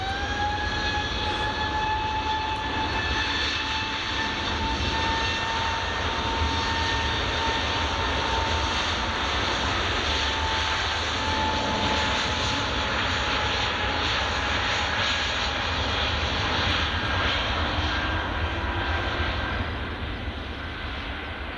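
A steady, loud jet roar from an EasyJet airliner departing Glasgow Airport, with engine whine tones drifting slightly as it carries on without a break.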